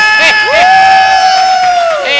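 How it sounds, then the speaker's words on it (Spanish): A comedy-show audience applauds and cheers, a loud, close crowd roar with a sustained whistle or whooping tone running through it and a scattering of shouts. "Fuerte el aplauso, que se escuche, por favor."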